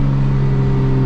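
Single-turbo BMW 335i engine drones steadily and loudly up close during a rev-match on a shift, a brief sustained tone with no talking.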